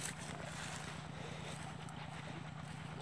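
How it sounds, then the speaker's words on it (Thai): Water pump running to fill a rice paddy, a steady pulsing engine drone with rhythmic low throb throughout, faint and continuous with wind noise. "สูบน้ำเข้านาปรัง"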